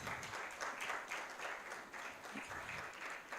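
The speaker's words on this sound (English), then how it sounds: "A round of applause." A conference audience at an intellectual property event claps steadily in a sustained round of applause, dense and even throughout, with no talk over it.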